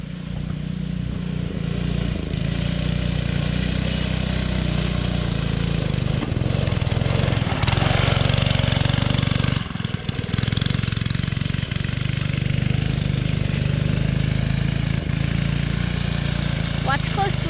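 A motorcycle engine runs for the whole stretch with a steady low rumble and chugging, loud and close, rising briefly in the middle, with a voice partly over it.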